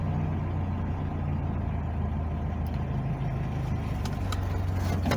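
A 1985 Nissan 720 pickup engine fitted with a Weber carburetor idles steadily, a low, even rumble that stays constant and close throughout with no voices.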